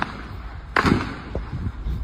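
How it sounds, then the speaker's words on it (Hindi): A single sharp, loud gunshot crack rings out against a steady outdoor rumble during street unrest in Pakistan-administered Kashmir, followed by a couple of fainter thuds. "ये लगातार ये गोलियां मारे जा रहे हैं"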